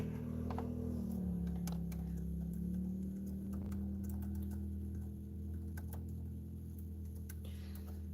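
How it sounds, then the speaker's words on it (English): Someone types on a computer keyboard during a live stream, producing quiet, irregular key clicks scattered over a steady low hum. "I'm typing that in the comments right now."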